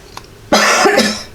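One person gives a single sharp, close cough followed by a brief rasping tail, after a quiet moment with a small click.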